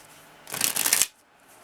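Lenormand oracle cards riffled in a short, loud burst of about half a second, with no talk over it.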